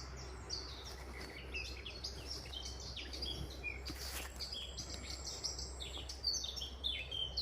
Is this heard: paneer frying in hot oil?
no